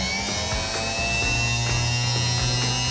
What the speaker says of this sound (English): And it's turning in a counterclockwise direction now.